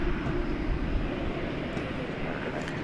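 A Qantas airliner takes off at DFW International Airport, a loud, steady engine roar that stays constant and close throughout, with no other sounds over it.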